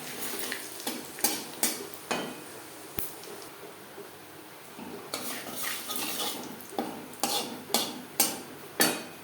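A bay leaf and whole cumin seeds are tossed into hot oil in a kadai, previously used for frying rui fish, with a soft sizzle under repeated scraping and clinks of a spoon against the pan, close by.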